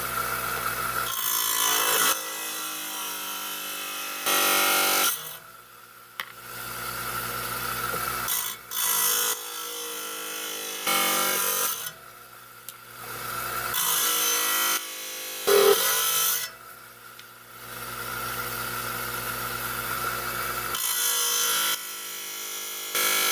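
A trim saw cuts around a shape in a picture jasper slab for a cabochon, giving loud abrasive grinding bursts that stop and restart several times with short quieter gaps between.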